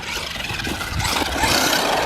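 A brushless 4WD BSD Racing CR-218R RC dune buggy driving over hilly outdoor ground, a loud steady whining motor hum with rough broadband rushing that grows slightly louder toward the end.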